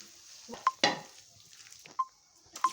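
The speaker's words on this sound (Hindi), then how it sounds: "अब और डाल देंगे अपने पकोड़े और रखते जाएंगे अपने।" Onion lachha pakoras fry in hot oil with a soft sizzle, broken by a few sharp clinks and stirring knocks that sound close by, with no one talking.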